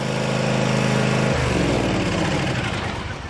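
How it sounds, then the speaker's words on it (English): A traditional gas lawn mower in a beekeeping apiary runs loud and close, its steady engine drone shifting pitch slightly partway through. "you got the traditional sound of a lawn mower"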